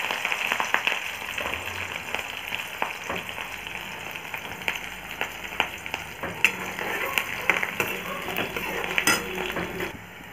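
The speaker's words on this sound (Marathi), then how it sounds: "कांदा छान आता परतून झालेला आहे" Onion and green chili sizzle and fry in about three tablespoons of hot oil for a Vidarbha-style potato and eggplant curry, with a steady loud crackle, scattered utensil scrapes and clinks from stirring, and no talking.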